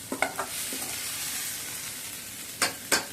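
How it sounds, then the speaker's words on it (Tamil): Onions sizzle and fry with masala in a hot pan, a steady close hiss with a few sharp spatula scrapes at the start and near the end. "இப்போது இந்த மசாலாவோடு சேர்த்து நம்ம வெங்காயம் போட்டு இதில் இப்போ இதில் போட்டுக்கலாம்"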